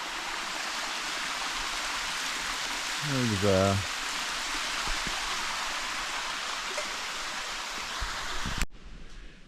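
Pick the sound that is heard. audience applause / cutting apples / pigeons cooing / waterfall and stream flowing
waterfall and stream flowing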